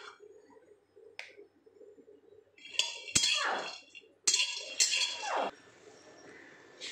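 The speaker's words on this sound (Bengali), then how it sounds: "এবারে আমি বাদামটাকে আর একটু নাড়িয়ে নাড়িয়ে নিচ্ছি।" Fried peanuts stirred in a wok, a few sharp metallic scrapes and clinks close by with rattling nuts, irregular strokes separated by quieter pauses with a faint low hum underneath.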